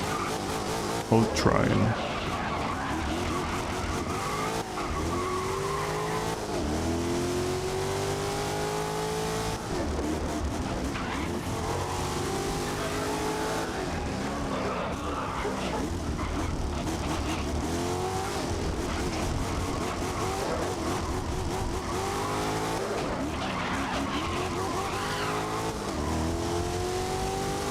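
Race cars in GRID (2019) roar through a lap, engines rising and falling with repeated tire squeals and skids, continuous and close, while someone talks over the action.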